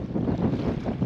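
Wind blowing at about 9-10 miles per hour and gusting to 12 buffets a microphone beside choppy water before a packraft trip. It makes a steady, close, low roar for about a second, with no voices.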